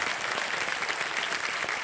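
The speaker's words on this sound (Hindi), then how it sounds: "एक बार तालियों के साथ इनका अभिनंदन किया जाए" Studio audience applause on a quiz show set, a continuous wash of many hands clapping at steady strength, moderately faint, with no speech over it.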